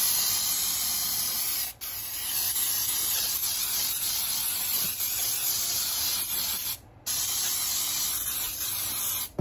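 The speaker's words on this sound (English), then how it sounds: "Okay, so now I'm going to spray down my pan." A continuous aerosol baking spray hisses close up onto a cake pan for several seconds, broken by two brief pauses, with faint rubbing and clinking beneath it.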